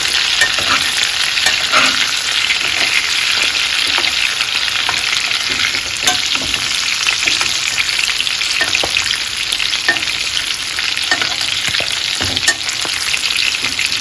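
Salmon fillets sizzle loudly and steadily in a frying pan while being basted with honey jerk sauce, a dense continuous crackle with occasional louder spits and stirring clinks.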